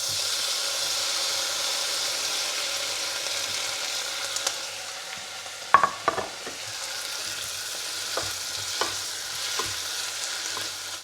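Garden tomatoes frying in a pan give off a steady close sizzle and hiss, with several sharp scraping clicks and taps as they are stirred partway through.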